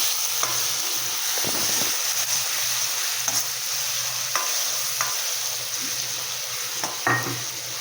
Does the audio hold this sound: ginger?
yes